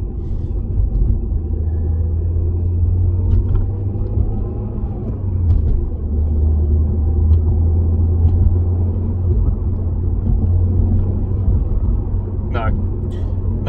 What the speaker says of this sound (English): Giving it some blips of the accelerator, but nothing.